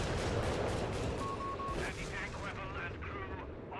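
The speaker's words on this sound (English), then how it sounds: "airburst barrage versus strafe" Airburst artillery barrage in Company of Heroes 3, a dense rumbling stream of shells and gunfire heard under a caster's excited commentary.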